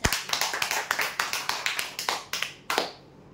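Applause for a prize draw winner of a spray pump: a small group's brisk, rhythmic claps over about three seconds, fairly quiet, ending with a couple of final claps.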